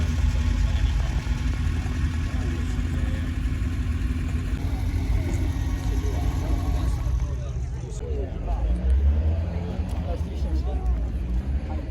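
Ferrari 360 V8 idling close by, a steady low rumble with a lighter mechanical hum above it, continuous throughout with slight swells toward the end, and no voices heard over it.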